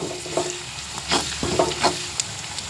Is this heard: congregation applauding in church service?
no